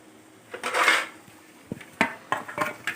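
A lid set onto a cooking pan, a clattering metallic clink followed by several sharper taps and knocks of metal on metal, close and fairly quiet, with no talking.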